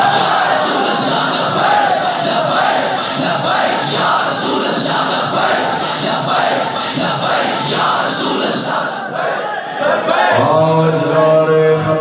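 A large crowd at a religious gathering chants Labbaik in loud, rhythmic, overlapping voices, sustained throughout, with a clearer voiced chant emerging at the end.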